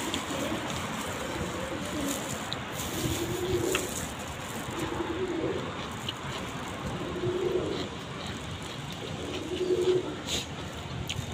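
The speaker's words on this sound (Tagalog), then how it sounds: "Dinig nyo guys, yung huni ng kalapate." Brown and white pigeons courting coo in a steady rhythm, a low burbling call about every two seconds, repeated five times over constant outdoor background noise.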